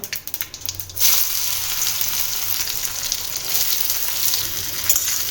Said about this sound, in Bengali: উচ্ছেটা একটু নুন আর হলুদ দিয়ে ভাজবো